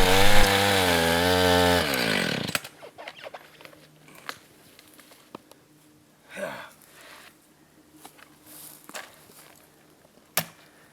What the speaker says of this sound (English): looks like you need to get that chainsaw sharpened